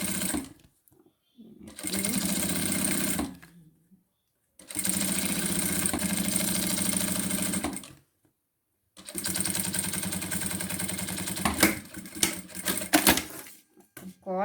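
A sewing machine stitches a zipper onto a fabric pencil case in three steady buzzing runs separated by short pauses, close and loud, with a few clicks and handling noises near the end.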